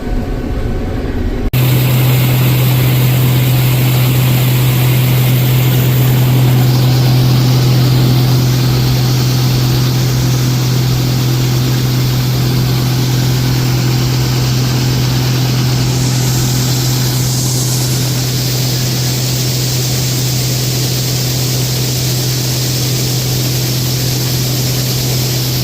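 An old Case tractor pulling grain wagons during soybean harvest, its heavy diesel engine droning in a loud, steady low hum that runs unbroken for over twenty seconds after starting.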